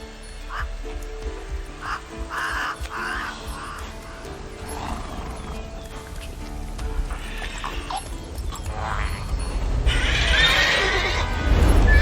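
Roach the horse neighing with hoofbeats in The Witcher 3 game, a whinny and clopping set among layered game music and ambience that swells louder toward the end.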